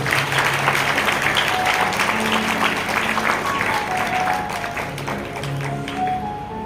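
Audience applause fills a church service led by a prophet, dense steady clapping at close range, with a tonal singing or music line faintly running underneath throughout.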